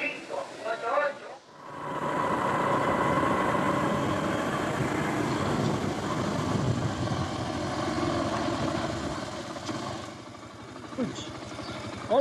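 A motorcycle engine runs steadily in Uruguay, a loud, sustained mechanical drone that holds for several seconds after a short, busy start and then eases slightly toward the end.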